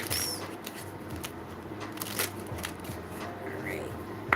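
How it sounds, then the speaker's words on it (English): Tarot cards shuffled by hand during a live reading, a dense run of riffling, crackling flutters close by, with a voice talking over part of it. "A couple more shuffles."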